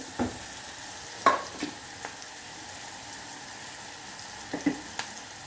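Bean leaves stir-frying in a pan, a steady close sizzle with a few soft scraping stirs of the spoon at irregular intervals, no talking.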